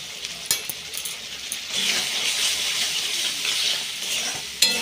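A masala seasoned with salt and turmeric is stirred and fried in a pan. A soft sizzle rises midway under scraping stirs, with a couple of sharp utensil knocks near the start and end.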